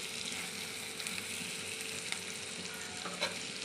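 Chilli, turmeric, cumin-coriander powder and salt sizzle and fry steadily in a pan, a continuous crackling hiss with occasional stirring scrapes, close and alone.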